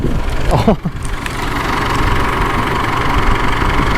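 A 2007 Chevrolet Colorado 2.5 pickup engine idles steadily up close with a low, even rumble, a brief squeak and shuffle near the start.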